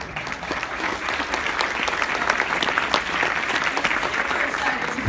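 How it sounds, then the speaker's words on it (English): An audience claps warmly and continuously, with a close, crisp patter of many hands holding steady for several seconds. "Round of applause."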